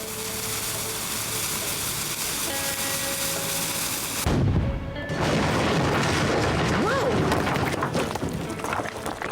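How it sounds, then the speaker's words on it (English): Cannon blast in the Nancy Drew: Last Train to Blue Moon Canyon video game, one heavy boom that cuts through a steady background rumble and is followed by crackling, clattering debris. "A fucking cannon?"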